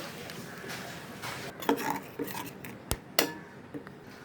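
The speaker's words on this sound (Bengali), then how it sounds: "এটা আমি জল দিয়ে একটু গুলে নেব" Spice powders and ginger paste are stirred with water in a bowl: soft scraping and several light clinks of a spoon against the dish, quiet and intermittent in a kitchen.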